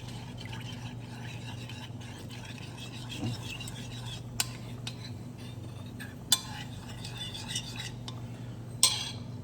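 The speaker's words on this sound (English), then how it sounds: "And then stir that in." Spoon stirring a cornstarch and water slurry in a small dish, faint scraping with a few sharp clinks of metal against the container, quiet and close, with a low background hum.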